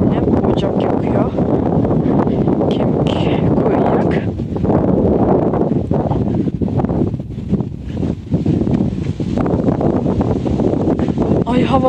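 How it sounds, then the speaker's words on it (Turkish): Strong wind rumbles and blasts across the microphone continuously, loud and close, with a voice talking under the noise. "güneş var ama rüzgar da çok"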